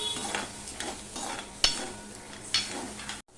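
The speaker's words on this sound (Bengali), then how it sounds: "মশলাটা কষানোর জন্য আমি একটু জল দিয়ে দিলাম দিয়ে মশলাটাকে আমি কষিয়ে নেব" Masala with a splash of water, cooked down for a vegetarian Bengali-style taro root curry, stirred in a pan: rhythmic scraping strokes over a soft sizzle, close and moderately loud, with a sharp utensil clink.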